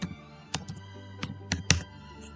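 A few separate keystrokes tapped on a computer keyboard at a desk while setting up a Python Astropy galaxy simulation, close and fairly quiet, with short clicks spaced irregularly and no talking.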